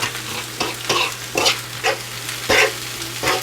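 Chicken breast with spinach and onion sizzles in a frying pan while a utensil stirs it in a series of scraping strokes under a steady background hum.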